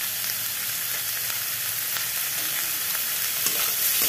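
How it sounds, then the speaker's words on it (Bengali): Food fries in a pan as salt and turmeric are added, a constant bright sizzle with occasional stirring scrapes and no talk. "লবণ দিয়ে একটু হলুদ দিয়ে দিই"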